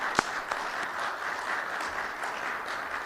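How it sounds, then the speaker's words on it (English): An audience claps steadily in a dense, continuous round of applause, with a few sharper individual claps standing out near the start. "a round of applause because they do an amazing job for us"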